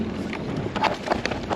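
Wind on a river during a bass fishing tournament in a heat wave buffets the microphone in a steady low rumble, loud and close, with light splashy hiss.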